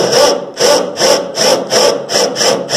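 A screwdriver fitted with a 20 cm extension drives a screw into wood in a tight corner, producing repeated rasping bursts of about half a second each, close and fairly loud, with no talk.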